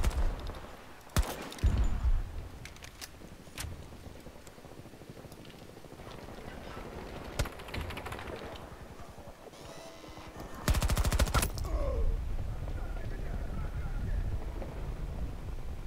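Turret machine gun fire in Battlefield 2042 on a canals map, with sharp bursts scattered through a busy, noisy battle and a longer, louder sustained burst near the end.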